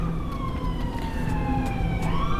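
A wailing emergency siren sweeps up and down steadily, heard alone at a moderate distance with no one talking.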